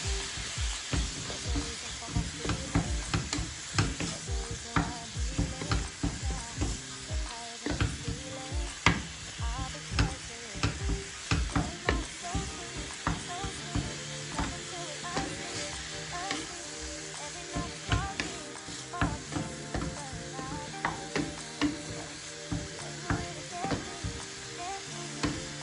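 Tomato and spices frying in a pan while being stirred, a continuous close sizzle broken by rapid irregular scrapes and clacks of the utensil against the pan, fairly quiet overall.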